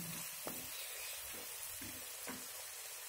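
Turmeric frying in oil in a pan for egg curry, giving a steady close sizzle with several soft scraping stir strokes at regular intervals.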